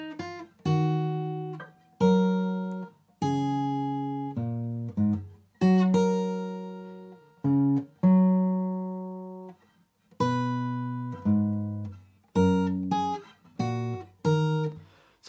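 Solo fingerstyle guitar playing a melody, slow plucked single notes and chords ringing out with pauses between phrases, clear and close with no talking.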